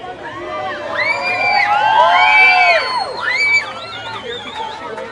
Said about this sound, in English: hear people cheering